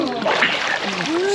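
A person jumping into cold outdoor water sets off a brief splash and slosh, heard close while voices talk and call out.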